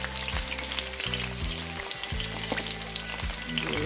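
Fry dumplings sizzle steadily in hot oil in a pan, a close, continuous crackle with occasional stirring and scraping sounds, and no talking.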